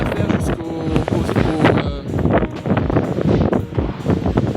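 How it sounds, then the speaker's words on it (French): Strong wind gusts roar across the microphone on a winter mountain trail in Corsica's GR20 route, a dense, rough, continuous rumble with shifting intensity. "Il pleut, il y a du vent."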